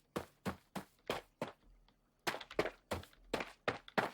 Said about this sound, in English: we hear stone footsteps play